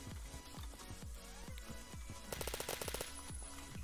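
Automatic gunfire from an M9 in a fast-paced online shooter, a dense rapid burst of sharp shots standing out near the middle over steady game sound and repeated low thuds.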